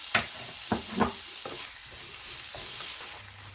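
Tomatoes with salt cooking in a pan, a gentle sizzle broken by a few distinct stirring scrapes and taps, near and moderately quiet.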